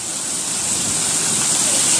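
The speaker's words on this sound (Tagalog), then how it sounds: "mag-iingat yung alon malalakas yung alon" Strong waves surge at the Death Pool, a rocky coastal pool in Pangasinan, a loud continuous roar of rushing surf that swells slightly, with no voices.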